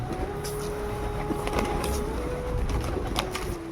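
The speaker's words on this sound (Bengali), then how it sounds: "এখানে কত পায়রাগুলো বসে আছে সারা দুপুর অপেক্ষা করে থাকে কখন আমি চাল দেবো" Pigeons gathered and waiting to be fed rice give repeated soft cooing calls, layered over a steady outdoor hum with faint traffic in the background.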